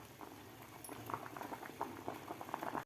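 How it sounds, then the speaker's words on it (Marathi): Green peas boiling in a pot of water, a steady bubbling and popping simmer that runs close and even throughout, with no voices over it. "तीन ते 4 मिनिट झालेले आहेत, तर ते आपले मटार व्यवस्थित बॉईल झालेले आहेत, थोडेसे सॉफ्टसुद्धा झालेले आहेत।"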